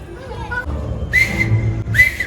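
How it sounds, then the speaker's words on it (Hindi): A person whistles to tease someone at a party: two sharp, bright whistle bursts, the second shorter, over a low hum of room noise and faint talk in the background. "ये सीटी मार के मुझे छेड़ रही है"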